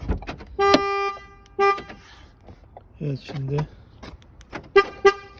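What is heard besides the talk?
Ford Focus anti-theft alarm horn chirps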